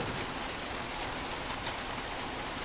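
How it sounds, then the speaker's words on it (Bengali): Steady rain pours down in a dense, unbroken hiss that stays even and moderately loud throughout, with no voices. "কত সুন্দর বৃষ্টি হইতে আছে"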